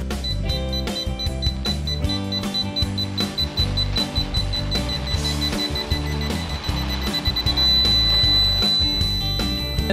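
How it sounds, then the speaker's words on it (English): Rapid electronic beeping from a four-wheel mobility scooter's rear backup sensor repeats steadily over a continuous tonal hum, close and fairly loud, with no talking. "it has the rear backup sensor. So if you get close to stuff, it starts beeping"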